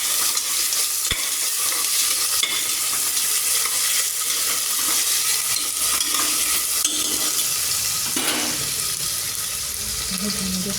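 Food sizzling in a frying pan as a spoon stirs and scrapes it, a steady, close crackle with faint watery undertones that runs throughout without pause.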